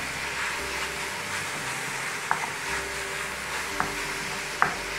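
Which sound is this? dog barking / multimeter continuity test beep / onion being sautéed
onion being sautéed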